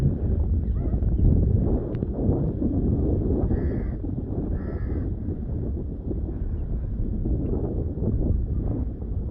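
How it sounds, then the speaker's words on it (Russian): Strong wind at Sukhna Lake in Chandigarh, India, roars and buffets the microphone in a continuous low rumble, with a couple of faint distant calls rising briefly above it. "где ветер дует прямо в лицо"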